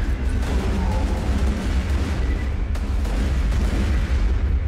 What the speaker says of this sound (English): I don't know why I threw that grenade.